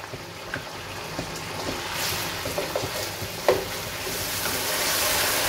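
Chopped chillies dropped into a curry pan for chicken rezala fry with a soft, close sizzle and a few stirring clinks, building slightly toward the end, with no voices.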